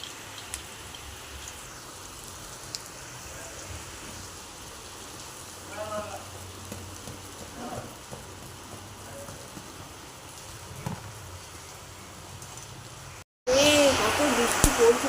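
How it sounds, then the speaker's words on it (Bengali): Rain falls outside at night during a wet monsoon spell, a soft continuous patter heard indoors beneath occasional talking, with a brief louder burst near the end. "আর এখন রাত্রেবেলা ঝমঝমিয়ে পড়ছে বৃষ্টি।"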